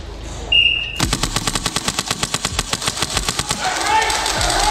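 Airsoft competition rifle firing a rapid string of about thirty evenly spaced shots over three seconds, sharp and close, with people talking and background noise around the burst.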